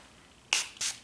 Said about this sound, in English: I'm gonna go ahead and set my face using my new favorite setting spray